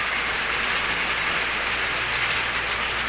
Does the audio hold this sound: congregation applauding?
no